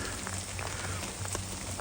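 Night rain falling in an enclosure where parson chameleons are kept, a steady fine patter of drops that stays even and moderately close through the short stretch.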